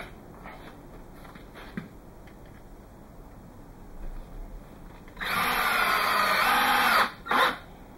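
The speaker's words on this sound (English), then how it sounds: "we're going to put that wood screw in first" A power drill drives a wood screw into a wooden miter joint, whirring steadily for about two seconds and then giving a brief final burst. A low, quiet workshop hush comes before it.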